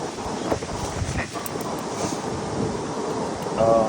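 Gusting wind roars across the microphone in a continuous rumble, with a few faint sounds underneath.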